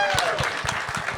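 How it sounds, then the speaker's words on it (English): A crowd at a gaming convention's live painting challenge applauds a painter, a brief burst of fairly close, busy clapping mixed with crowd murmur. "Round of applause for Griffin."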